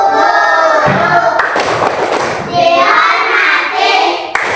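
A class of children in an Indonesian classroom claps in a quick rhythmic pattern, loud and close, with voices mixed in.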